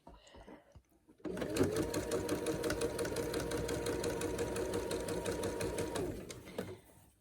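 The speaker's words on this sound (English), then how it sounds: "we're going to stitch right along that seam and give it a good top stitch" A sewing machine top-stitching along the seam of a fabric face mask, running steadily and close for about five seconds with a rapid even needle clatter, stopping near the end, with no talk over it.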